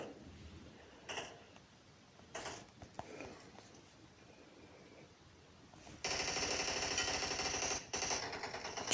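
Gunfire in the PUBG Mobile battle royale game sounds as faint, distant shots at first, then a louder sustained burst of automatic fire toward the end.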